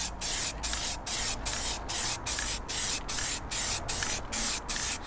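Halfords gloss black spray paint is sprayed onto car wheels in a series of short, even bursts, about a dozen quick hissing blasts in a regular rhythm, close and moderately loud.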